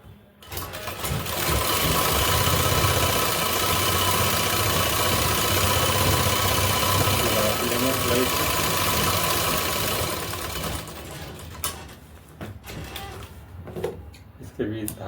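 A sewing machine runs steadily for about ten seconds while stitching a suit, a loud continuous mechanical whir that then stops, leaving quieter handling noises and a brief voice near the end.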